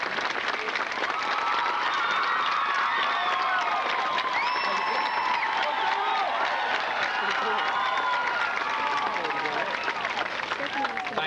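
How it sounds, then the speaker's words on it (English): A high school graduation crowd applauds faculty and administration, dense steady clapping mixed with scattered cheers and whoops, sustained at even volume throughout. "Please join me, seniors, in a round of applause."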